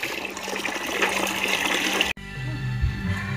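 Water gushes and splashes loudly and steadily during an outdoor bath in the countryside, then cuts off abruptly into a quieter stretch of trickling and splashing.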